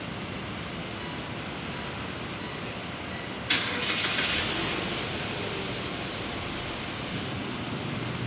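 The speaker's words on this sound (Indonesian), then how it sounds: "putar ignition switch ke posisi on dan hidupkan engine." Car engine cranking to life after the ignition is switched on, a brief burst of starter noise mid-clip settling into a steady low idle, moderately distant with no talk.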